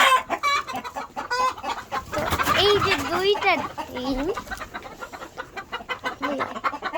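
Fayoumi chickens cluck and squawk close by, with repeated calls rising to a busy burst in the middle, while a person talks over them throughout.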